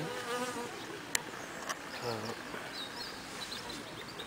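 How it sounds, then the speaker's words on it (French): A single bee buzzes through a continuous drone, with a sharp click and a few faint bird-like chirps, while people talk in French. "Une abeille."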